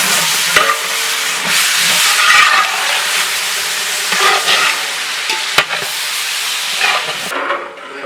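Chopped tomatoes frying with sautéed onions in a pot for mutton dum biryani, a loud steady sizzle with spoon stirring and scraping throughout, close and continuous until it drops away near the end.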